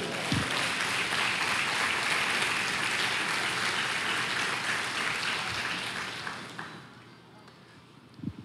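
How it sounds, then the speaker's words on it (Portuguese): A church congregation gives a sustained round of applause, loud dense clapping that holds steady for several seconds, then thins and fades out near the end. "dê uma salva de palmas para ele"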